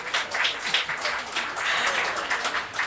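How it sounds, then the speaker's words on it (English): A live podcast audience gives its afternoon guest a round of applause, a dense, even wash of clapping from a modest crowd, heard somewhat distant and sustained throughout without any talk over it. "can we have a round of applause for our guest this afternoon?"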